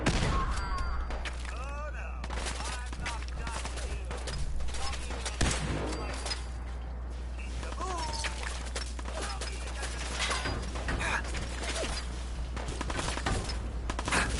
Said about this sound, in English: You notice I'm not too concerned about these guys shooting at me